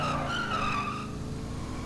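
Tyres squeal in a long, loud skid as a car spins through a 720 in a GTA roleplay game, a steady screech over engine roar with no talking.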